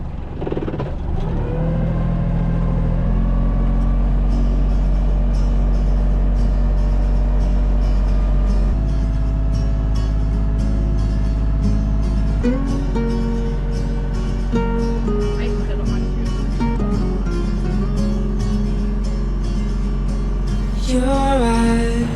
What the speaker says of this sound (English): Now we're gonna motor all the way home